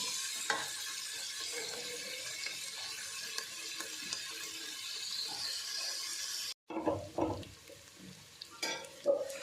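Onions frying in a pan for a bottle gourd curry, a steady close sizzle with occasional stirring scrapes, cut off abruptly partway and followed by louder clattering stirs and knocks against the pan.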